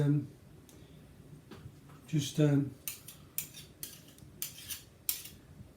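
A spoon scrapes and taps against a cake tin while levelling freshly mixed cake batter, giving several short clinks and scrapes, a couple of them louder, with a voice talking briefly near the start.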